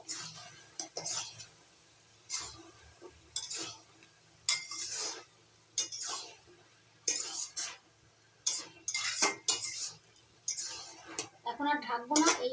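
A spoon stirs boiled chickpeas around a pan in repeated bursts of close scraping and clinking, with a soft sizzle beneath and a quiet voice talking.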